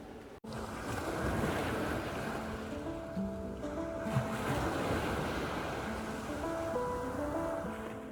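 Waves crashing on Fort Myers Beach, a steady loud roar of surf with wind buffeting the microphone throughout, no voices.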